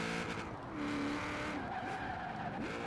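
A Camaro burnout car in Forza Horizon 4 over-revving on drag tires, with a sustained loud engine roar and wavering tire squeal as the pitch climbs and dips.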